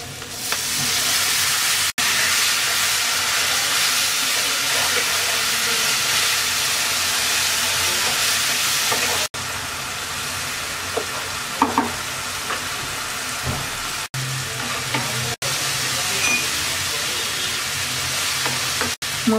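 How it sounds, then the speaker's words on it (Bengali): Spice paste of chili powder, turmeric, roasted cumin and salt sautéed with a little water in a pan for koi fish with tomato, a steady close sizzle and hiss with occasional stirring scrapes, no talking. "অল্প একটু পানি দিয়ে মশলাটা কষিয়ে নেব।"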